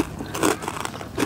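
Someone takes crunchy bites of spicy Thai pounded giant squid salad, with a few close, crisp crunches and chewing noises in quick succession, loud and near, with no talk.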